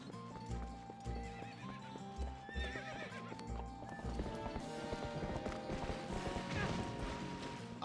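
A horse in Legend of Zelda Twilight Princess clops its hooves in a steady rhythm and whinnies, over a soft game music background.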